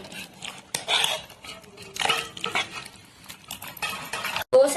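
Semolina dosa batter being mixed in a bowl, with irregular scraping, tapping and clinking of a utensil against the bowl close up, bursts of stirring separated by short pauses.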